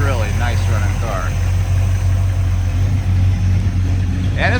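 A 1958 Ford Custom 300 with a 302 engine idles smoothly and quietly, a steady low hum running throughout while someone talks over it at the start and end.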